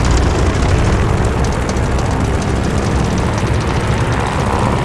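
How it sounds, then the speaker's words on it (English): Military aircraft engine run-up in Call of Duty Vanguard, a loud steady roar close by and sustained throughout, with no voices over it. "do an engine run up. Make sure she doesn't blow out."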